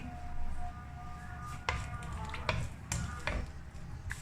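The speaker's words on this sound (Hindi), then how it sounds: "प्याज हल्का हल्का सा फ्राई होना स्टार्ट हो चुका है" Two finely chopped onions fry in oil in a pan, a low steady sizzle under intermittent sharp scrapes and taps of a spoon stirring against the pan.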